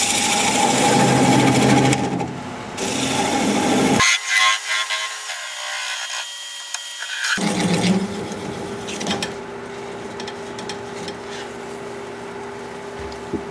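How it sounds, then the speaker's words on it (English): A woodturning lathe cutting a small nub off a spinning wood blank gives a steady mechanical whir with scraping texture, broken by a quiet gap of a few seconds before the motor and tool noise return, close and fairly loud. "Now I just want to cut that little nub off again."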